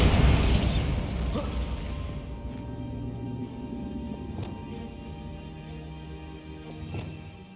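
A Bombarda blasting spell explosion in Hogwarts Legacy opens with a loud burst, then debris clatters and the blast rings out and fades, with a couple of smaller impacts later.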